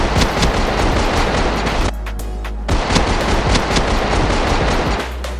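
Rapid automatic gunfire from the survival game Rust in an in-game replay, loud and dense bursts that break off for under a second before resuming, with no talk over them.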